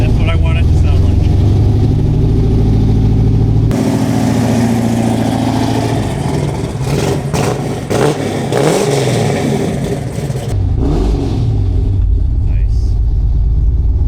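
The engine of a restored 1979 Pontiac Trans Am idles loud and close with a deep rumble, shifting in tone partway through, while people speak briefly nearby.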